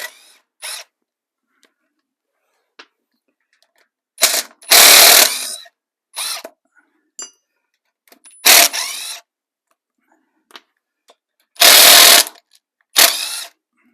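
Air impact wrench rattling nuts off a Ferguson tractor belt pulley, several loud separate bursts of a second or so each with quiet gaps between, no talking.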